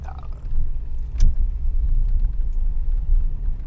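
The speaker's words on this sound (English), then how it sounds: "And this is a 5-liter V8." A 5-liter V8 in a Mercedes W126 idles with a steady low rumble, close and continuous, with a brief sharper tick partway through and no voices.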